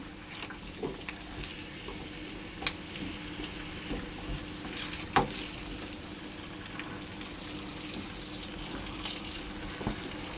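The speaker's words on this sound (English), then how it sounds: "I'm gently going to stir the potatoes until they're all coated in the oil" Potatoes are gently stirred in hot oil in a frying pan, giving a low, steady sizzle with occasional faint scrapes and clicks.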